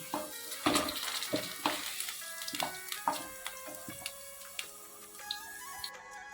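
Potatoes frying in hot oil in a pan while an Odia fish curry is cooked: a soft steady sizzle with intermittent clicks and scrapes of stirring, fairly quiet and without talk.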